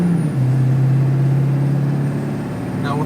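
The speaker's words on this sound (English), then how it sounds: "We are now hopping on the freeway with the 14-foot trailer." A 7.3 Powerstroke diesel truck with performance mods cruises on the freeway towing a 14-foot trailer, a steady low engine drone and road roar with a constant hum throughout.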